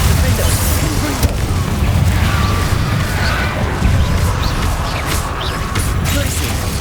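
Confringo fire-spell blasts in the Hogwarts Legacy video game, a steady roar of rumbling explosions and mechanical clatter running throughout, with a voice shouting over the din.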